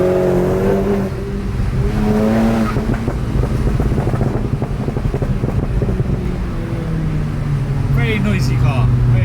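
A tuned Volkswagen Golf GTI making 350 bhp runs on overrun, a loud, close engine drone with rapid crackling pops through the exhaust, wind buffeting the microphone and talk over the top.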